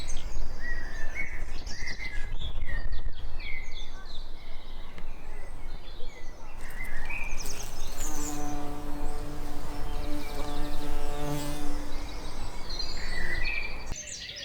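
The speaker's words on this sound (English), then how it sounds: "This is a dunnock, one of my favourite birds. He's in my hawthorn tree, one of the best singers of the British birds." A dunnock sings from a garden hawthorn tree in an English spring, its bright, rapid warbling phrases repeating over steady background noise, with a long tonal hum joining during the second half.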